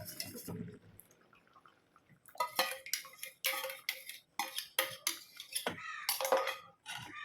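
Curd being mixed into a pumpkin curry with the stove off, a burst of irregular clinks and scrapes of a spoon against the pot, close and fairly loud after a quieter opening.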